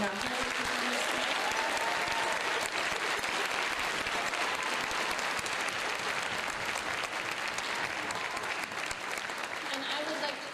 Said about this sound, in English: one more round of applause, please, for those 7th graders and our heroes performers tonight